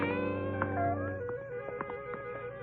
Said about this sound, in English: A gray Persian cat followed us.